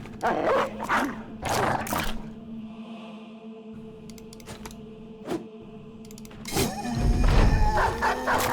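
A dog in a turn-based video game barks and whimpers in short bursts, mixed with clicks and game effects, then a louder rush of game sound near the end.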